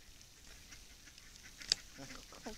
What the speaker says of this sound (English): You got the ducks?